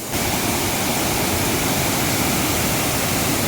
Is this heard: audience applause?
no